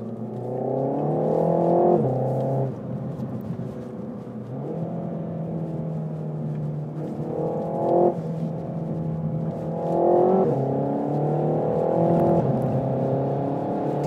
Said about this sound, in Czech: jedeme v Meganu RS, ale pozor, Trophy, což je výjimečná kára